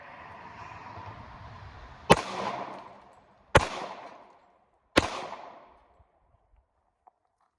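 Three sharp gunshots from a Smith & Wesson .40 caliber pistol, spaced about a second and a half apart, each loud and close with a short decaying echo over faint background noise.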